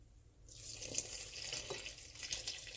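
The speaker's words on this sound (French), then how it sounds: "Et je rajoute mon bol d'eau." Lukewarm water poured from a bowl into flour for beignet dough, a faint, quiet gush starting after a brief silence and continuing steadily for a couple of seconds.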